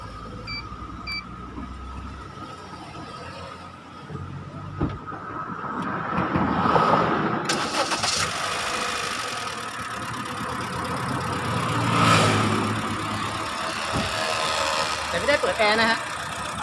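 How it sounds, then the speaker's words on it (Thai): A car engine starts and settles into a steady idle during a battery check, rumbling close by while people talk over it. "สตาร์ทรถเนาะ"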